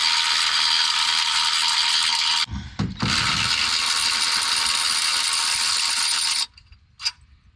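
Close, loud ratcheting from a wrench turning an alternator bolt on a 2007 Chevrolet Suburban runs in a long steady burst, breaks briefly around a clatter, resumes, then stops with one faint final click.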